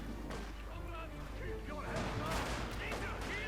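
Gunfire from a Company of Heroes 2 infantry fight with Jaegers, video game: bursts of shots and crackling fire growing louder in the second half, under continuous talk.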